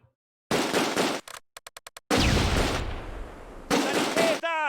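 Gunfire and grenade blasts in the WWII tactics game Close Combat: A Bridge Too Far, with a loud burst, a quick run of sharp rapid shots, then heavy roaring explosions up close.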